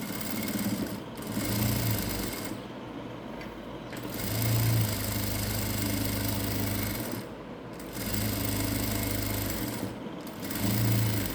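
Sewing machine running bursts of stitching along the side seam of a churidar, a steady motor whir in several runs of a couple of seconds each, separated by short pauses, close and fairly quiet with no talking.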